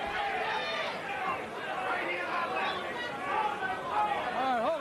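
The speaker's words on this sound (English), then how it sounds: "Tremendously enthusiastic crowd here at the Miami High Life Front Top." A large, enthusiastic crowd at a Miami boxing arena chatters loudly and steadily as a bout gets going. The murmur is dense and continuous, with some voices rising above it.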